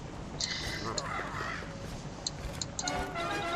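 A bird in the game Don't Starve: Reign of Giants gives a few short crow-like caws scattered through the stretch, heard beneath a person talking.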